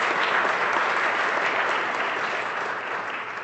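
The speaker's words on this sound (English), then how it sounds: "feel free to applaud as people stand" Sustained audience applause for a guest of honor at a formal health innovation event, a dense, even roar of many hands clapping that starts full and gradually tapers off slightly, with no voices over it.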